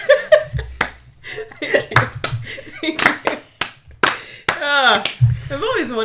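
A slow clap of four or five sharp handclaps lands about a second apart, mixed in with people talking and laughing close by.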